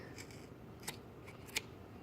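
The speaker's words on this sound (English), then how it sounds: "stick your scissors through the loop all the way through, and just cut right down the middle of the loops" Scissors snip through yarn loops to form a pom-pom, a few sharp, quiet, close clicks spaced out against faint room hiss.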